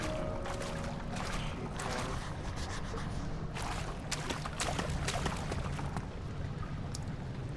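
Water in the video game Amnesia: The Dark Descent, a continuous close rushing and splashing wash with trickling, sloshing bursts, steady and fairly loud throughout.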